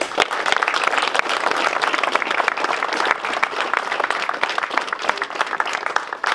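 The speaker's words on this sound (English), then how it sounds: "So big round of applause to you guys," Sustained applause from a group of airsoft players at an event, many hands clapping in a thick, even wash that stays loud from start to finish.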